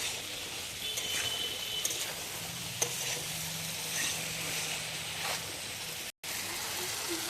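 Potatoes stirred and fried with ridge gourd in a pan, a steady close sizzle with occasional scraping stirs throughout, no talking.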